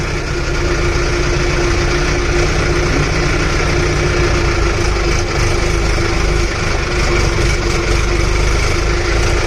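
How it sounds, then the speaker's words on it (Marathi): A tractor engine idles steadily nearby, parked at the machine belt while hauling murum, giving a constant loud mechanical drone with a humming tone and no talk. "लावले आता मशीन पट्ट्यावर ट्रॅक्टर लावला"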